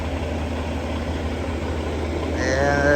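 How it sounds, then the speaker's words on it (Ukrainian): Truck engine idling evenly, a steady low rumble close by throughout with a faint rising tone entering near the end. "Двигун працює нормально рівно."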